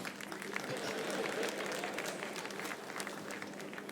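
Steady audience applause from a live crowd at a Nigerian stand-up comedy show fills the whole stretch, dense and even in level, with a voice faintly underneath.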